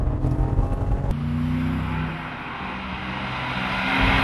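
A high-revving 2007 Porsche 911 Targa 4 flat-six engine screams close by near its rev limiter, holding near its peak before easing slightly and climbing again, with no talk.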